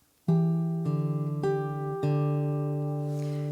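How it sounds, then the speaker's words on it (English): Four plucked guitar notes ring out one after another at a steady pace, each sustaining with rich overtones, played cleanly and alone. "So we're going to play the finger picking pattern through for 1 bar,"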